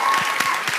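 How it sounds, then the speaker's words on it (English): A short burst of audience applause for a volunteer at a physics public lecture, dense clapping heard up close with no speech over it. "A little round of applause,"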